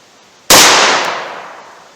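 A single sharp, loud gunshot from a pistol firing a heavy 158 grain bullet over a chronograph, a close crack with a quickly decaying tail.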